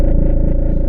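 A Waves Flow Motion synth patch plays a sustained, buzzing tone through a distortion effect, loud and gritty with a steady pulsing rhythm and no talk over it.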